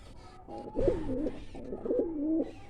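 A pigeon coos nearby in two soft, throaty rolling phrases, separated by a brief pause; a domestic pigeon pair, a red cock and a black-and-white hen.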